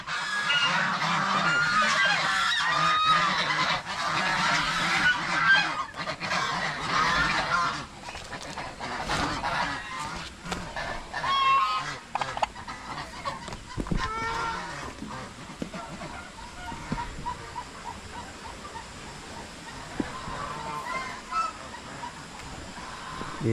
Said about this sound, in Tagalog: Napakaingay po ng gansa.